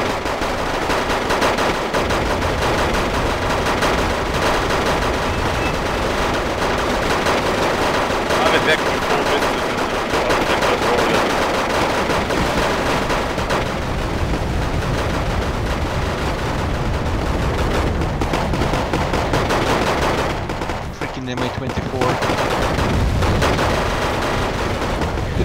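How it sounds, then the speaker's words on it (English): Continuous barrage of mortar fire in the video game Wargame: AirLand Battle, dense overlapping booms and rattling gunfire with no letup, loud and sustained throughout, with a voice talking over it. "this is just one set of mortars. They fire pretty much constantly."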